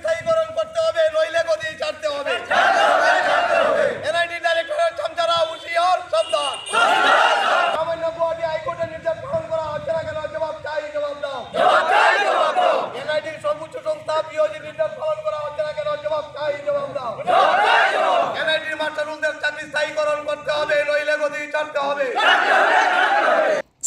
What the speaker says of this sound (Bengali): দাবি আদায়ে তুমুল স্লোগান তোলেন কর্মচারীরা